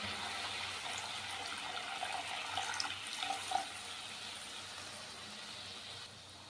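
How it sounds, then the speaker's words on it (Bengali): Water poured into a pan of Bengali mustard-poppy seed rohu fish curry, a steady splashing gush that runs for several seconds and tapers off near the end, with no talking. "এবার জল দিয়ে দেবো।"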